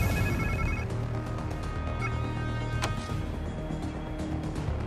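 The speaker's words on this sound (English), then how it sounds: "Sounds like somebody's phone." A phone rings in the Spider-Man 2 PS5 video game, a brief electronic ringtone at the start over a steady bed of in-game ambience and music.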